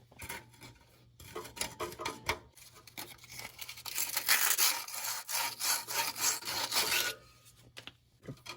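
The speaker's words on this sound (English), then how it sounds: "I'm just gonna sand this rough edge so it doesn't cut the hose when I'm sliding it on" Sandpaper rubs by hand across a rough metal tube edge on a 1977 Ford F150 transmission cooler line, a close, steady rasping scrape in quick strokes that builds to a denser stretch before easing off.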